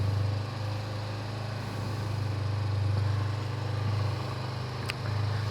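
A carbureted Kawasaki Ninja 250 twin with twin exhaust pipes idles steadily after a cold start in winter, a low, even rumble held close and constant.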